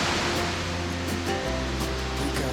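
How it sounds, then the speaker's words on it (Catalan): A waterfall pouring inside a cave in Angola makes a dense, steady roar of rushing water, loud and close, continuous throughout with no voices. "I ara hem arribat a la cascada aquesta"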